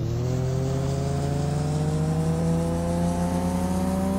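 Mazda MX-5 Super20 2010 mod engine in Farming Simulator 19, a steady loud in-game engine drone whose pitch climbs slowly as the car accelerates, alone without voices.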